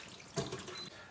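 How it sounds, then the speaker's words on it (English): Water running and splashing briefly from a drained bowl of soaked wood ear mushrooms, a short close pour that swells and then tapers off. "Drain the water."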